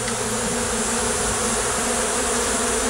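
Honeybees fly around a large hive being cut out of a closet, their steady, dense buzzing filling the space loud and close without a break.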